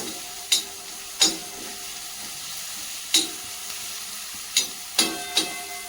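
Khichdi roasting in a pan on a low flame, a faint low sizzle broken by several sharp clinks or spatters at irregular intervals, with no one speaking.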